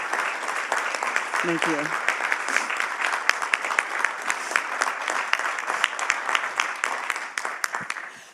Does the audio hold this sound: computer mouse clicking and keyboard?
no